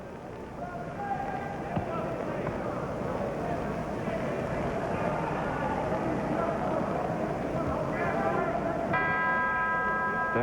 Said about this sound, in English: There's the bell that ends round number 4